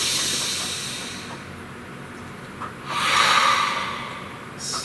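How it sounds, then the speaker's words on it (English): A deep breath drawn in and released: soft airy inhalation, then a louder, fuller hissing exhale near the middle, close to the microphone, with no speech. "Please take a nice deep breath"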